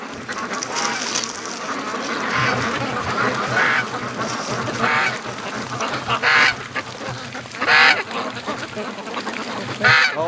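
A flock of free range ducks quacks repeatedly near a creek with ice, loud bursts of calls recurring every couple of seconds over steady background chatter of birds, with no talking.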